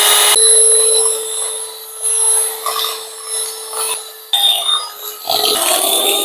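Sugar and margarine are beaten together for a homemade butter cake, giving a steady whirring, rasping churn that swells and dips for several seconds, fairly loud and close.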